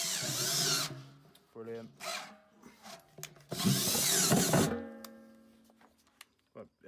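A power drill enlarges a hole to 13 mm in loud, close bursts separated by short pauses, with a brief spoken word between runs.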